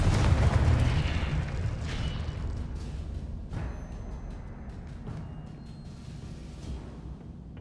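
A Confringo spell blast in a Hogwarts wizarding video game goes off as a deep booming burst up front, then rumbles out while faint clicks and whooshes trail behind.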